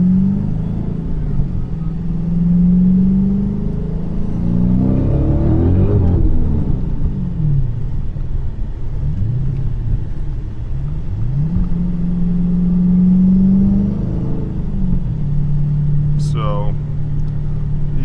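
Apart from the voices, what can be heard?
426 Whipple supercharged Hemi engine running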